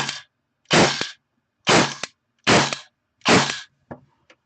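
An airsoft gun fires in semi-auto, giving five distinct sharp, loud bursts at irregular intervals of roughly a second, followed by a couple of faint softer clicks, with silence between shots.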